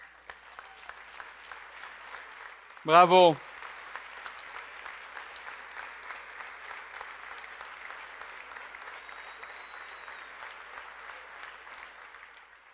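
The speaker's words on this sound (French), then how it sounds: "J'aimerais qu'ils se lèvent et qu'on leur donne une bonne main d'applaudissements." Steady audience applause at a mayor's dinner in Victoriaville continues throughout, broken early by one voice calling out a short, loud exclamation.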